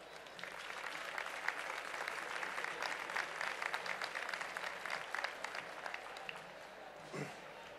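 Strong applause from an audience at a municipal honours and distinctions ceremony in Valdepeñas, steady dense clapping filling the room for several seconds and easing off near the end.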